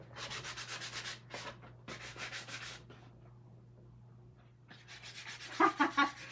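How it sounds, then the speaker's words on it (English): Close, dry sandpaper strokes rub across a freshly painted Dollar Tree craft piece in repeated bursts, with a quiet pause in the middle before the scratchy rubbing resumes. "And I just painted it and now I'm gonna sand it."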